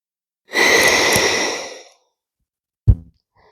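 A long, deep exhalation during a heart-opening yoga flow, a soft breathy rush lasting over a second, followed after a pause by a short, sharp breath sound, close and alone with no talk.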